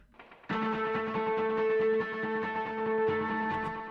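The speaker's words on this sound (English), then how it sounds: "And there's like an echo at exactly 120 milliseconds." Electric guitar played through an amp with a 120-millisecond echo effect, sustained ringing notes and chords repeating in audible echoes, loud and close with no voices.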